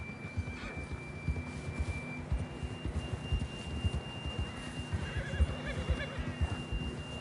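A horse whinnies in Red Dead Redemption 2 over a busy, continuous game soundscape of low rumbling and steady thudding, with a thin electronic tone running through it.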